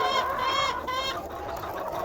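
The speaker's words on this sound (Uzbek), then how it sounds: "Mana birinchi partiya xo'rozlarimiz." Australorp roosters in a flock cluck and call in repeated harmonic bursts, loud and close, with no talk over them.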